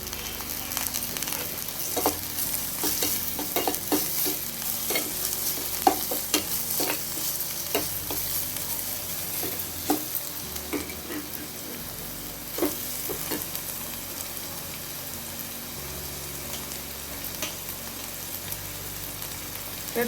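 Tomato goes into a pan of frying ravaa kichadi, with steady stirring scrapes and a soft, continuous sizzle throughout, fairly quiet and close.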